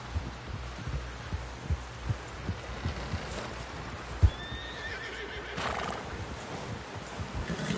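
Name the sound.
horse neighing, from a video game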